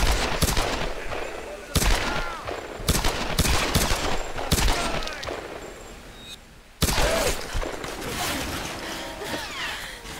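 Dense bursts of gunfire from the Tomb Raider video game, loud volleys and rapid automatic fire with short pauses between bursts, continuing through the whole stretch without any talking over it.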